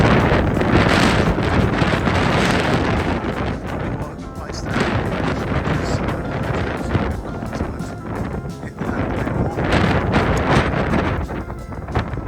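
Strong wind on the Kent coast between Faversham and Whitstable buffets the microphone in loud, roaring gusts that swell and ease over the whole stretch, with no speech over it.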